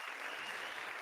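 A short burst of steady applause from a small group, even and continuous with a hiss of many claps, moderately close and fairly quiet.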